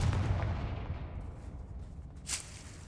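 A Confringo fire spell cast in the video game Hogwarts Legacy erupts in a loud, broadband blast that rumbles and decays, then a second sharp burst flares near the end, with no talk over it.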